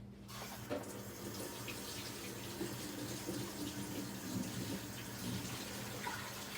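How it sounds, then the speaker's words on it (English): A tap runs steadily into a sink while hands are washed under it, making a constant close splash with no voices. "Let me wash my hands."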